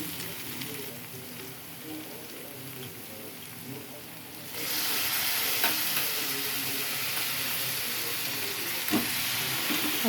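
Washed chicken pieces frying in a pan: a moderate background sizzle that jumps sharply into a loud, dense, hissing crackle partway through and then holds steady and close, with no talk.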